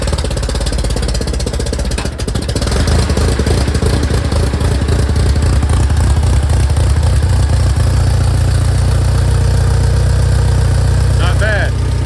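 A 1968 Allis Chalmers D15 Industrial tractor engine idles with the choke on and a little throttle, a loud, close, steady rhythmic chugging throughout, with a voice briefly speaking over it.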